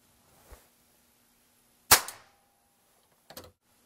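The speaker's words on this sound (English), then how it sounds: "Now let's pop that primer and see just how far the firing pin actually drives it into the chamber." Rifle firing pin snapping a primer in the chamber of a .280 Ackley Improved: a soft click, then one sharp, loud pop near the middle, followed by a fainter double tap of handling, with a quiet room otherwise.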